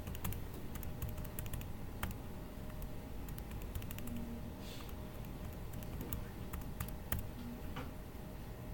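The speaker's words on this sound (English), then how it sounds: "And get that typed in." Irregular, light clicks of typing on a computer keyboard, scattered over nearly nine seconds against a steady low room hum, close and fairly quiet with no talking.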